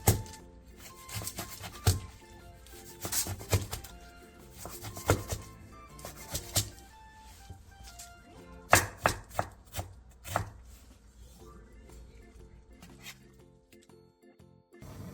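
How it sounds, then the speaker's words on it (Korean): Aged kimchi chopped with a knife on a cutting board in a home kitchen, a series of sharp irregular thuds and clacks, close and loud, some in quick bursts, with no talk. "묵은지 4분의 1포기를 3cm 정도 길이로 잘라주세요."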